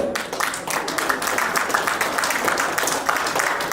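Audience at a travel company's ninth anniversary celebration clapping hard, a steady, fairly loud patter of many hands that continues throughout with voices mixed underneath.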